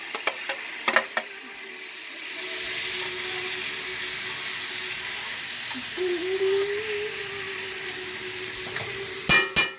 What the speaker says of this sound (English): And now I'm going to add the shrimps.